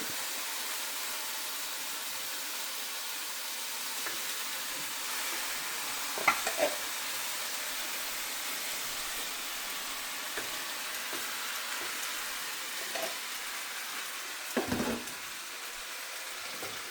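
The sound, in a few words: stirring lentils and eggplant in a frying pan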